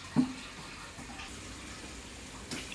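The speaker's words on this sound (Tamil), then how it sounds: "இதில் இப்போ இரநூறு லிட்டர் அளவுக்கு தண்ணியை நம்ம சேர்த்து அதை வந்து நம்ம ட்ரிப் மூலமாக அனுப்ப போகிறோம்" Water pours steadily into a tank, about two hundred litres for a drip irrigation system, a continuous close gushing flow with a brief knock at the start.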